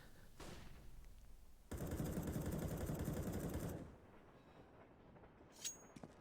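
A Counter-Strike match with a dense two-second burst of rapid gunfire, followed by quieter game ambience and a faint sharp shot near the end.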